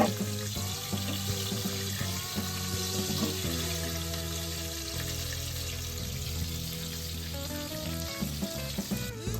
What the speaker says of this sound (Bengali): একটা করে তেলের মধ্যে লো টু মিডিয়াম ফ্লেমে আমরা একটু ভেজে নেবো